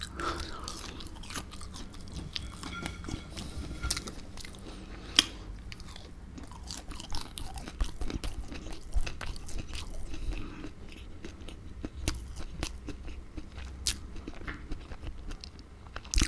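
Close, intimate chewing of chicken parmesan, with soft bites, wet crunches and mouth sounds repeating irregularly over a quiet background, nobody speaking.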